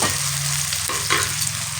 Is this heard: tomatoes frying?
yes